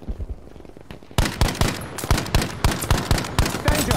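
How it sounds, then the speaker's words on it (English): Gunfire in the Battlefield V video game: after a quieter opening second, a loud run of sharp shots cracks out in quick, irregular bursts, close and dense, continuing to the end with no talking. "I hear shots popping off"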